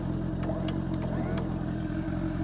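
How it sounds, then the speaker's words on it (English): A warmed-up car engine idles with a steady, smooth low rumble, loud and close, with a few faint clicks over it. "Should be about warmed up, so we'll see how she idles. And it is idling well."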